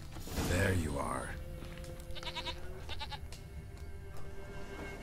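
A goat in The Witcher 3 bleats in quick wavering pulses after a burst of speech, with soft game ambience and a steady hum underneath.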